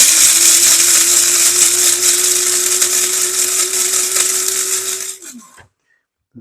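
A blender grinds juniper berries and black pepper with a loud, steady motor whine for about five seconds, then winds down and stops, leaving near silence.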